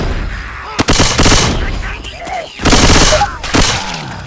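Rapid bursts of gunfire from the Left 4 Dead 2 co-op zombie shooter, loud and dense with repeated volleys and brief pauses, with players talking over the shooting.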